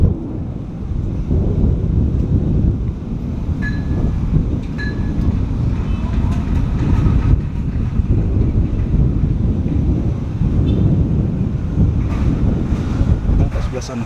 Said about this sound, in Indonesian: Di sini memang banyak angin.